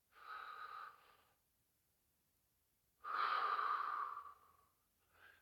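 A senior warm-up exercise brings two deep, audible out-breaths, the second longer and stronger, then a faint start of a third, close to the mic with quiet pauses between.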